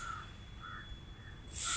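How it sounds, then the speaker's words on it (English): Crows cawing outdoors in a sunny setting near trees and a temple: three or four moderately distant caws spaced across a quiet background, and a louder call at the end. "There's birds."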